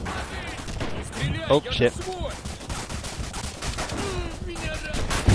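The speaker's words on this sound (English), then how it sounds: "Artillery dropping on the right." Gunfire crackles in rapid bursts with occasional heavier blasts during a Red Orchestra 2 battle at Mamayev Kurgan, as artillery drops nearby; a voice exclaims over the shooting.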